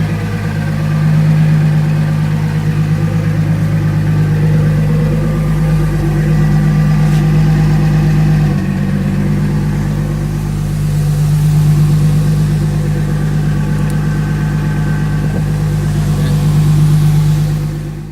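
A Nissan 240SX with an RB25DET Neo engine runs steadily nearby, a deep droning hum with strong low harmonics and mild rises in revs, continuous throughout with no talking.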